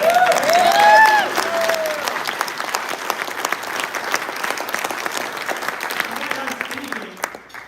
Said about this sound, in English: if you could give her one more round of applause.